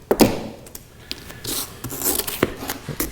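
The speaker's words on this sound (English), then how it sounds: "Get a little bit of a scrub in there just to get those sharp edges down" Sandpaper rubs in short, uneven scrubbing strokes against the sharp edges of a wooden kayak stem, close and fairly loud, with brief gaps between passes.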